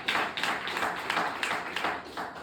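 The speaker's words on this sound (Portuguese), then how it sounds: "Então você pode aplaudir a Deus" Church congregation clapping together in praise to God, a dense run of overlapping hand claps with periodic swells, steady and close throughout.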